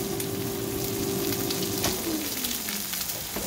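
Six eggs frying in a pan, giving a steady, close sizzle with crackling throughout, no talking.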